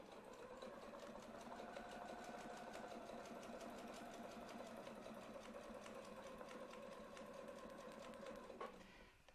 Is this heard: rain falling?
no